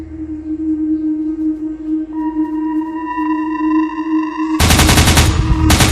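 A machine gun fired by an Indian Army company headquarters during an encounter with militants opens up in rapid, loud, repeated bursts near the end, after a stretch of sustained tones.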